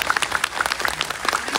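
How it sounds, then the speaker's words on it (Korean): Audience applause at a Korean film festival talk event for director Lee Jung-jae's film Hunt: a short burst of dense crowd clapping, steady and fairly loud throughout. "큰 박수 부탁드립니다"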